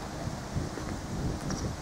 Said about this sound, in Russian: Только ветер, конечно, дует здесь.